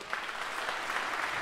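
Concert audience applause for a high school guitarist at a symphonic band and jazz ensemble performance, a brief, even burst of many hands clapping at moderate volume.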